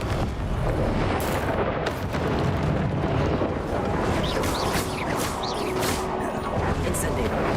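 Confringo blast spells exploding in Hogwarts Legacy, repeated booming explosions and crashing bursts over a constant loud wash of combat noise.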